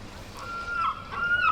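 Gulls at the seaside in Filey give short, nasal, wavering calls, several cries in quick succession that are moderately close and carry over soft background noise.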